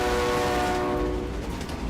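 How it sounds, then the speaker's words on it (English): The Polar Bear Express train rolls through extreme winter cold, with a sustained horn tone over a loud, continuous rumble of the railcars that fades slightly toward the end. "People rely on this train daily to get back and forth because it may be the only means of transportation available"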